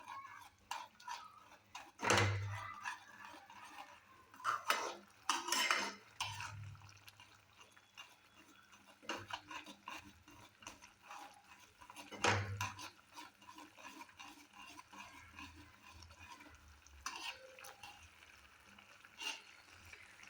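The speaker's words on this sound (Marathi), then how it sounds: "थोडक्यात घोटून घ्यायचं आहे आपण" A spoon stirs and mashes masoor dal in a pot, giving intermittent scraping knocks and soft wet clinks spread out at irregular intervals, fairly faint and close with no talk.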